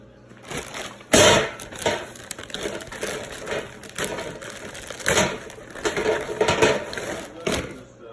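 A sink strainer flange is cut down to size on a marble surface, with uneven crunching, snapping cuts in bursts spread across the clip, close and loud, with a few short gaps between strokes.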